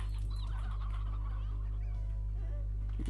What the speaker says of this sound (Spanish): Vamos a dejar estas dos gallinas.